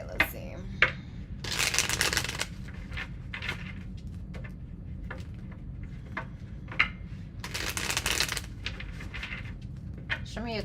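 Tarot cards being shuffled by hand in a couple of quick riffling bursts with scattered light taps and card flicks between them, soft and close, with a voice speaking at times.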